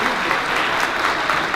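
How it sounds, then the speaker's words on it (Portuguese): An audience at an anti-corruption forum claps in a dense, even burst of applause that fills the whole short moment, with no voice over it. "Pediria uma salva de palmas."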